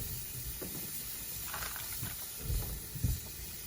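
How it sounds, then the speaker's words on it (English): A steady, close hiss of a thick steak sizzling on a hot grill, with a few soft pops and crackles rising through it. "Listen to that goodness sizzle."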